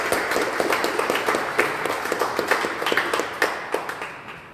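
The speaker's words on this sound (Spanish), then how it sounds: "Pues aquí les pido por favor un fuerte aplauso a nuestra conferencista." A modest audience gives a lecturer a round of applause, individual claps clearly audible as a lively, uneven patter at a Spanish-language history conference.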